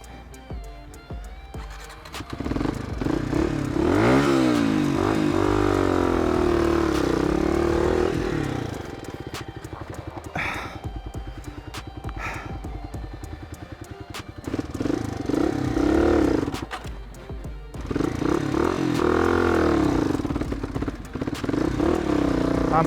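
A motorcycle engine in first gear lugs and bogs down, revving unevenly with clattering and stuttering bursts over about twenty seconds, close and loud.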